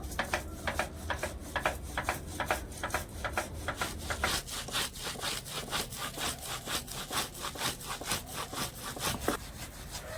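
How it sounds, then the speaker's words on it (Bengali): Ripe palm fruit pulp is rubbed against a grater in quick, even back-and-forth strokes, a close, steady rasping rhythm that runs continuously without speech. "এবার আমি এই গ্রেটারের সাহায্যে একটুখানি এরকম করে ঘষে নেবো"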